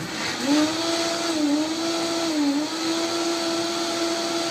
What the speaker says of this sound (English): Okay, so just gonna blend it.